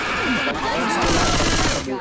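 Gunfire from Left 4 Dead 2 in a chaotic eight-player realism match on the HalfDead map, with rapid shots blending into dense game noise and overlapping voices throughout.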